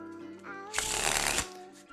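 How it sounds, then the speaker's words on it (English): A quick, loud riffle of playing cards being shuffled, lasting under a second, with quiet ambient tones before and after. "I'm going to go into a thorough shuffle"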